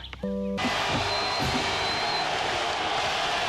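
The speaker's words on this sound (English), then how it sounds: "deafening noise from the crowd" A college football stadium crowd at Michigan versus Iowa roars loudly and continuously, a dense wash of cheering that swells after a brief quieter moment and stays steady under the broadcast.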